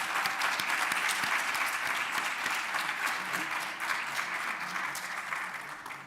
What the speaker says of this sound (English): Could we give them a warm round of applause?